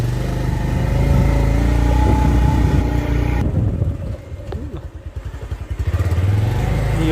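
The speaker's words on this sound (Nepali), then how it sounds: "बाइक स्टार्ट हानेर एउटा यसलाई बोकेर कुदाउँछ" A motorcycle is started and ridden, its engine loud and steady at first, then a rougher pulsing idle with revving swells, in a close outdoor setting.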